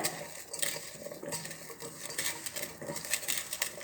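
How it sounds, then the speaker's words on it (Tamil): A spoon stirs taro root fry with spices in a metal pan, producing close, continuous scraping and clinking of utensil on cookware with a steady sizzle underneath and no talking. "இப்போ நல்லா இதை கிளறி விட்டுக்கோங்க"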